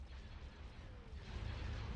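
Artillery fire in the Star Wars Empire at War game, a faint, low rumbling boom that swells toward the end and sits beneath a dull, distant roar of battle.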